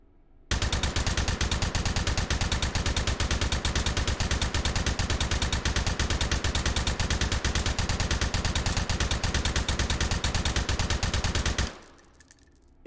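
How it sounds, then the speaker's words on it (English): A laser-sighted gun in the VR shooting game Hot Dogs, Horseshoes & Hand Grenades fires from the hip in a long, loud, rapid automatic burst of evenly spaced shots lasting about eleven seconds, then stops abruptly. "Let's fire from the hip again."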